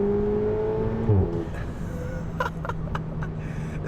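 A tuned VW Golf R accelerating hard: a rising engine drone climbs in pitch, then shifts into broadband road and wind roar with short bursts, heard from inside or close to the car, with no talk.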